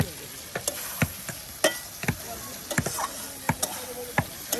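Fried potatoes and fried egg are stirred together with cooked spice paste in a pan outdoors on a riverbank, a spatula scraping and clacking in sharp, irregular strokes over a steady background hiss.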